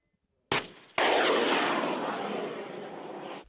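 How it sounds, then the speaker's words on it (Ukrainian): An Igla portable anti-aircraft missile is fired on a military range: a sharp launch crack, a second loud blast, then a long, loud roaring rush of the rocket that slowly fades as it flies away. "Наступною на полігоні стрільба проводиться з переносного зенітно-ракетного комплексу Ігла."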